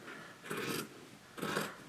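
Scissors cut through pillow fabric in two close, crisp snips about a second apart, each a short rasping crunch.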